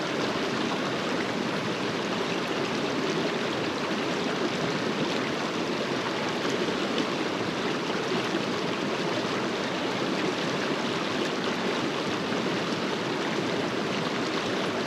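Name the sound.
creek flowing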